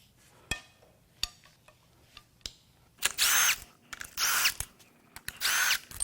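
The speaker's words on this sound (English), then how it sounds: "We're gonna gently crack them loose first." Bolts are cracked loose on a junk Ford F-250 6.4L Powerstroke turbodiesel engine during a teardown: a few sharp clicks and taps, then three loud buzzing bursts from a power tool, close and alone.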